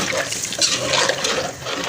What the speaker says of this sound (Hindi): अब मैं इसके अंदर ये गर्म पानी ऐड कर दूँगी।